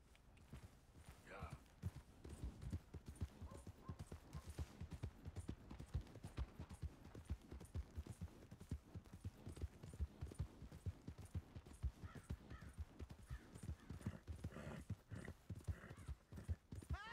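Rhythmic hoofbeats clip-clop steadily along at a walking pace in Red Dead Redemption 2, with faint talk and a brief horse whinny in the background.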